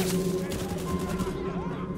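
Rapid gunfire crackles in a fast burst over a steady droning background, with a voice narrating in Indonesian underneath.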